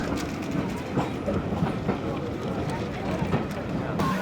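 A 150-year-old restored steam train pulls out of a station, its carriages rumbling and clattering steadily and close by throughout, with people talking among the passengers.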